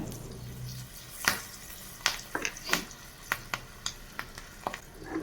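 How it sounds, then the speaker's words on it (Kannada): Spices and green chillies crackle and pop in hot oil for a tempering, a series of sharp sizzling bursts at irregular intervals, close and fairly loud with no voices. "ಇದಿಷ್ಟನ್ನು ಒಗ್ಗರಣೆ ಮಾಡ್ಕೊಳ್ತೀನಿ"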